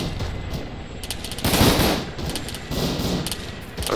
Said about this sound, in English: They're kind of the ones shooting at him right now.